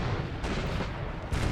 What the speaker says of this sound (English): They pound away with their artillery.